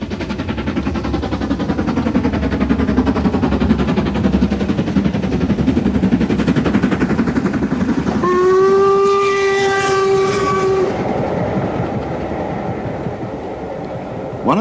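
LMS Black 5 steam locomotive No. 5305 on the West Highland Line near Fort William, running loud and steady for several seconds before its whistle sounds one long clear blast over the rolling train noise.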